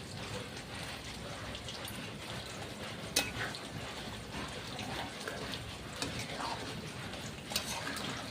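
Water poured into a pan of fish curry with potato, brinjal and tomato, a steady broadband splashing and hiss with a few small knocks, close and continuous.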